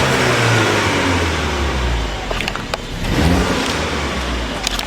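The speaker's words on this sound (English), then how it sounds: "see if we can get it to rev it high" A 2018 Audi A5 Sportback S line engine revs up loudly and holds a steady drone, dipping briefly before swelling again near the car.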